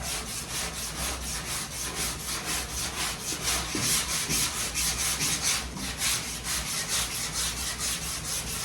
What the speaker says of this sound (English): Now, I'm not putting a lot of pressure on this sanding block.